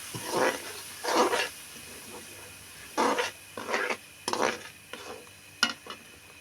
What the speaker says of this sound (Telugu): ముందే నానబెట్టి పెట్టుకున్న చింతపండు పులుసు తీసి ఇప్పుడు ఇందులో పోసుకుంటున్నా పోసుకున్న తర్వాత బాగా అది కలుపుకోవాలండి